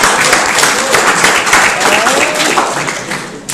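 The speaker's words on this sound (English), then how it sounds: "so another round of applause for everybody" An audience at a video game development club meeting claps and applauds steadily for several seconds, a dense, loud patter of many hands that tapers slightly at the end.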